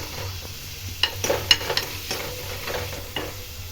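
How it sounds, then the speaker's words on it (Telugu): Chicken coated in paste and turmeric fries in a pan, a soft steady sizzle broken by a few sharper clinks and scrapes of a stirring spoon. "ఇది కొంచెం ఫ్రై అవ్వాలి"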